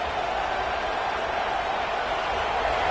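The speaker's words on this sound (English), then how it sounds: "And the crowd coming to life here, trying to help this defense down in the red zone." Stadium crowd at a Penn State vs Michigan college football game, roaring as the defense sets up in the red zone; a dense, steady, loud wall of cheering that holds throughout.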